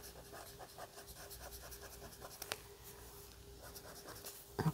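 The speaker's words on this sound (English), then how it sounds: "I'm just going to erase that very lightly." A pencil drawing being lightly erased by hand, giving a soft, steady scratchy rubbing in short repeated strokes, quiet and close, with no talking over it.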